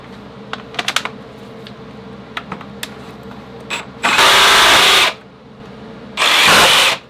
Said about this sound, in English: To do that, I'll use the jigsaw.